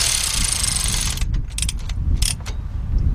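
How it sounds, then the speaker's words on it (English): A ratchet wrench tightening the front brake caliper bolts on a 2014 Dodge Ram 1500 pickup with a 5.7 engine, loud and close: a steady fast clicking run gives way to several short separate ratcheting strokes. "go ahead and tighten those bolts up"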